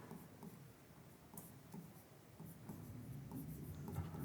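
Pen scratching across paper or a board as a chemistry lesson on alkyl radicals is written out by hand, a soft, steady scribbling stroke pattern heard alone and close.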